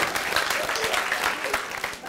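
Audience at a stand-up comedy show applauding steadily, a dense even patter of claps filling the room throughout, with no voices rising above it.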